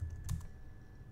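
A few quick keystrokes tapped on a computer keyboard while entering a password during a Dropbox install, faint and brief, with no voices.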